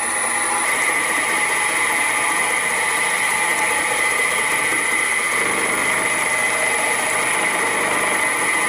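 A machine spindle turns a carbide cutter at 1400 RPM, giving a constant even hum with a steady high whine held throughout and no pauses.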